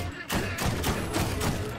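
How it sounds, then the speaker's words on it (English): In the Borderlands shooter game, blast rifle explosions thump out in a rapid volley of four or five booming bursts, loud and close against a steady game background. "He had a blast rifle. Explains the explosions."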